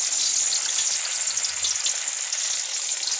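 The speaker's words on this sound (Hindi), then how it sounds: "अब हम इन्हें फ्राई कर लेते हैं। ये स्टिक्स हमने डाल दिए इसमें" Vegetable lollipop sticks fry in hot oil over a medium flame, giving a steady, loud, dense sizzle with fine crackling. It holds evenly throughout with no voices.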